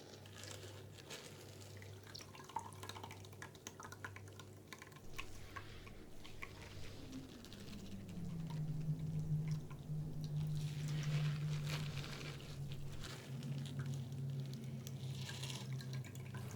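Wild rosehip pulp is squeezed through a strainer and its juice drips and squishes, faint close-up wet sounds with a low hum in the background.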